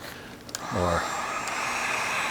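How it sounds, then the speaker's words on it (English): A heat gun runs with a steady blowing whir, used to soften vinyl bucket seat upholstery during reupholstering; the airflow rises after a short start and holds constant nearby. "use the heat gun to soften the vinyl a little bit"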